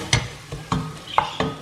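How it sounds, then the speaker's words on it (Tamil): Turmeric powder sautéed in oil for mutton kuzhambu: four quick, sharp scraping stirs of a spoon against the pan over a light sizzle, close and loud in a short burst. "மஞ்சள் பொடியை வந்து நம்ம வந்து இந்த ஆயிலில் நல்லா வதக்கிடலாம்."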